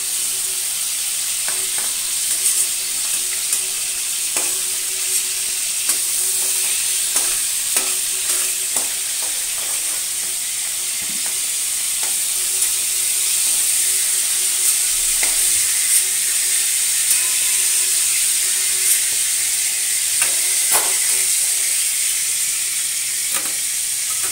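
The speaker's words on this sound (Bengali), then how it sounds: "আলু আর পটলটা আমার লাল করে ভাজা হয়ে গেছে" Potato and pointed gourd pieces fry in hot oil in a pan, a steady loud sizzle with scattered scraping knocks of a spatula stirring, no talking.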